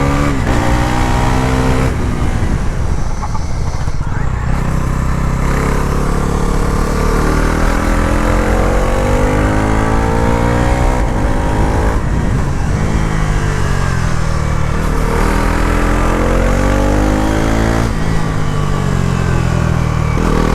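A Bajaj Pulsar NS 350z motorcycle is ridden hard, its engine loud and close with a steady roar that rises in pitch through the gears and shifts with brief dips.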